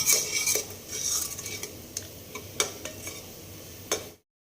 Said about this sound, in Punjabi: ਆਪਾਂ ਚੰਗੀ ਤਰ੍ਹਾਂ ਇਹਨੂੰ ਮਸਾਲੇ ਨੂੰ ਭੁੰਨਾਂਗੇ